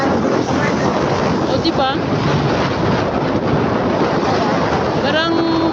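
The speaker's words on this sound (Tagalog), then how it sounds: "Sarap ng hangin, guys." Strong wind buffets the microphone during a road trip ride toward the sea, a constant roaring rush throughout while people speak briefly over it.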